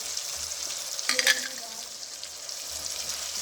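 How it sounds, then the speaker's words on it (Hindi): Ginger and green chilies sizzling in a pan with a tomato and pea masala, a steady close frying hiss with a brief louder crackle as they hit the oil, no talk. "अब मैं इसके अंदर अदरक ऐड कर रही हूँ और सब्ज़ मिर्चें।"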